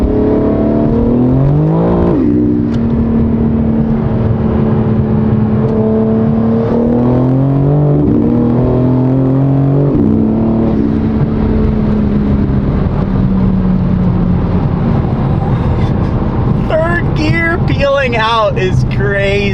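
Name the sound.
BMW M4 Competition on E85 blend accelerating in third gear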